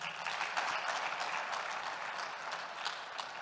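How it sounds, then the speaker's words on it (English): Applause from a forum audience for a panel at an expo, a dense, steady patter of many hands clapping at moderate volume from start to finish, with no clear pauses. "a round of applause for the panel"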